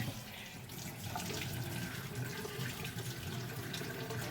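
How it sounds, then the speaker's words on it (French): Hot tap water runs steadily over a dessert mould to loosen a pear and chocolate charlotte, a constant close splashing hiss filling the whole stretch with no talking. "Ensuite, eau chaude."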